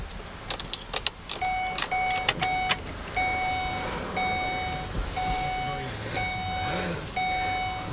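A 2010 Ford E150 Econoline van cranks and catches, settling into a low idle under a repeating electronic warning chime. Some faint talk is also present.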